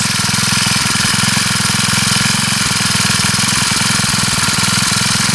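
A Craftsman 4-cycle string trimmer engine runs steadily nearby with a loud, rapid, rattling putter that holds an even rhythm throughout, with no voices.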